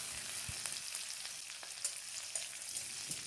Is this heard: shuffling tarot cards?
no